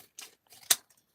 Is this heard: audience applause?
no